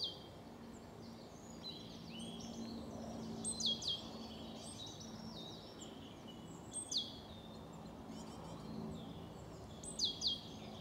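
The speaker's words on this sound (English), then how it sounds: "Let's just enjoy this bird song a moment." Birds sing along a narrow countryside footpath near Beaconsfield in late March, with short, bright chirping phrases recurring every few seconds over a quiet, faint outdoor background.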